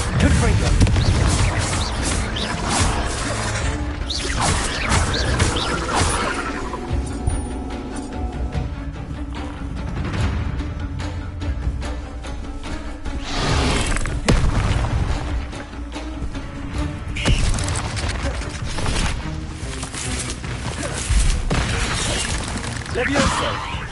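Confringo fire-spell blasts in the video game Hogwarts Legacy: a run of sharp, loud bursts and booms at irregular intervals over game music and effects, with a voice shouting spell names between them.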